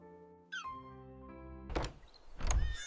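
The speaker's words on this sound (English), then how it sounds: "And with the door clicking shut behind them" A cartoon door clicking shut: two solid thunks about a second apart, ringing out over a soft sustained tonal background.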